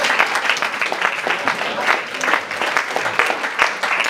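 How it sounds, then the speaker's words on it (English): An audience at a school good-news assembly claps steadily for several seconds, a fairly loud, even patter of many hands with no talking over it. "a round of applause to Hannah and Beth Powsland"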